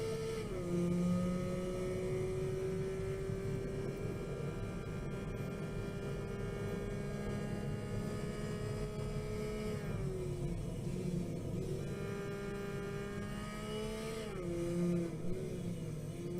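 Simulated engine of a 1-liter kei car in the Automation and BeamNG racing games, a steady droning tone that dips and blips as the driver lifts off and downshifts, then climbs again, continuous and moderately loud.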